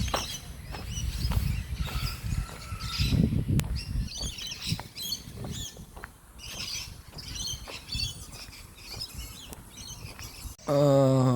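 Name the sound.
many birds chirping outdoors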